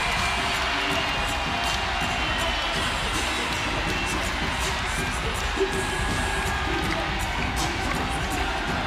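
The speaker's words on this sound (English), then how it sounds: "This crowd is on its feet, imploring defense." Steady roar of a basketball arena crowd on its feet cheering for defense during a Kentucky vs LSU women's game, continuous and loud with scattered shouts and whoops, a faint ball bounce underneath.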